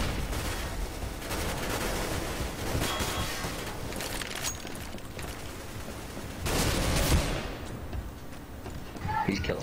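Gunfire in a shooter video game comes as dense, crackling volleys of shots that rise and fall, with voices talking over the battle noise.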